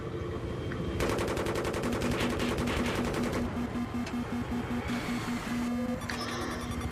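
Automatic gunfire from the Battlefield 3 video game, rapid rattling bursts that run loud and dense for several seconds over a busy battlefield mix, with no talk.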